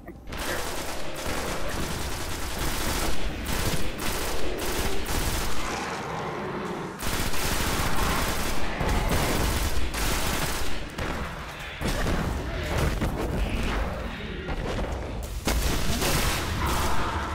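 Tommy gun fire in the video game Destiny rattles in sustained automatic bursts, loud and close, separated by short pauses, with dense crackling shots throughout and a faint voice now and then underneath.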